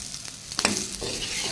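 Ivy gourd fries in oil in a pan with a steady sizzle, broken by a few scraping strokes of a spoon stirring the pieces, close by and with no talk.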